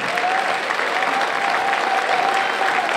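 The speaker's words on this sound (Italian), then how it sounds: "Un grande applauso e calorosissimo a Andrea e Natalina." An audience applauds warmly at a ballroom dance group's tenth anniversary event, a steady, dense wash of clapping that fills the room without pause for the full three seconds.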